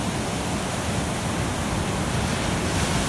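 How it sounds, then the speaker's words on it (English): Ocean waves crashing on a beach, a dense, steady roar of surf with no breaks, loud and close and filling the whole stretch, with no talking. "One more glimpse at the crashing waves."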